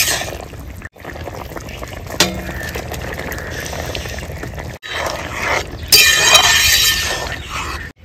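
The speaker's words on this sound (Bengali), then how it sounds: "এবার আমি দিয়ে দেবো ভেজে রাখা চিংড়ি মাছ।" Fried prawns tipped into a pot of soft, melted pumpkin set off a close, loud burst of bubbling and sputtering, with a sharp clatter partway through and a brighter, hissing surge near the end.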